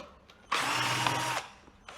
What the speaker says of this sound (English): So using an electric drill.